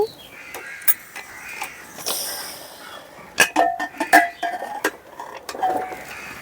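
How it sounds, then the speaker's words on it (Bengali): A pressure cooker lid is twisted open after one whistle while steaming hilsa fish, with a burst of escaping steam followed by sharp metallic clicks and clinks of the lid against the pot, close and moderately loud. "প্রেসার কুকারে একটা সিটি মেরে নিয়েছি, এখন ঢাকনাটা খুলে দিচ্ছি।"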